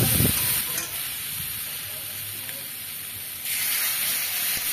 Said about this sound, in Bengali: আম মাছ ভালো করে নেড়ে নেব।